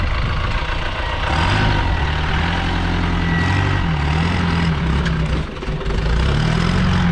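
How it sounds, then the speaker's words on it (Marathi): A vehicle engine labours steadily as it climbs a steep patched road up to Valmiki plateau in Patan taluka, a loud, continuous low drone with shifting pitch and rumble throughout, no voices. "गाडीची हा चढणार गाडी ऑलग पॅच कसला आहे बघ, कशी चढलेल्या का गाडी."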